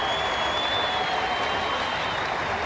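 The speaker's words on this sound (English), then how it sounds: "every run being greeted with a huge round of applause by this enthusiastic crowd" Enthusiastic crowd at a 1995 South Africa vs England cricket Test in Durban applauds a run, producing a steady, dense wash of clapping that holds at an even, moderately loud level throughout with no speech over it.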